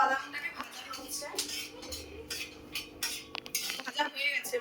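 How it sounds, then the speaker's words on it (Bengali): Peanuts frying in a pan are stirred with a metal utensil, giving close, repeated clinks and scrapes against the pan while someone talks. "বাদামটাকে ভাজা হচ্ছে,"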